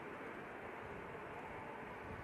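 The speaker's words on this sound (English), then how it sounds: "Iceland Air. 737 MAX 8 coming in from Reykjavik." Icelandair Boeing 737 MAX 8 airliner arriving from Reykjavik at Manchester Airport, a steady broadband jet roar held at even level throughout, with no talk.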